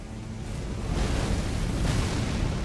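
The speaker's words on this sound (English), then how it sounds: "Ah, there's a follow-up explosion." Mesmer's flame attack in Elden Ring bursts into a follow-up explosion: a dense, rumbling roar that swells after the first half second and holds steady and loud for the rest, with no voices over it.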